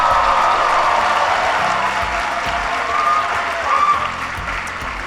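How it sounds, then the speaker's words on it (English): Crowd at a disability-themed event gives a speaker a big round of applause, loud and continuous, with scattered cheers and whoops rising above the clapping. "can everybody please give Grace another big round of applause"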